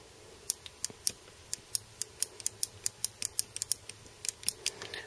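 Small metal clicks and snaps from a PPSh 1944 trigger mechanism as a rod clips into place, a dense irregular run of about twenty crisp ticks close up over a quiet background.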